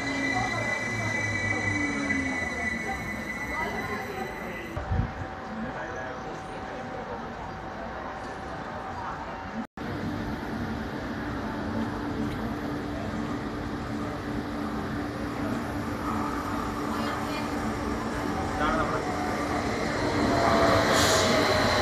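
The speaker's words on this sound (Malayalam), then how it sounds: "ഇതാണ് നമ്മൾ പോകുന്ന ട്രെയിൻ." A train at a station in Helsinki, Finland, rumbles steadily with metallic wheel squeals and rail noise that swell toward the end, close and fairly loud throughout.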